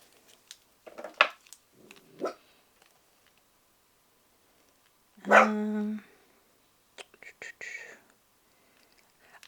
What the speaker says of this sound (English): Uh-oh. The doggy's going crazy.